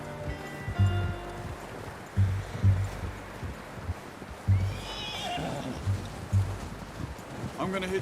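A horse in Red Dead Redemption 2 gives a whinny among intermittent low snorts and soft hoof sounds, with faint rustling in the background.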